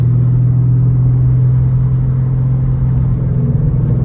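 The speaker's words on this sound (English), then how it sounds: "Clutch in, shift to third, ease off the clutch, ease on the gas." A manual Dodge Challenger's engine rumbles loudly and steadily from close by as the car pulls away in third gear, with the revs climbing slightly near the end.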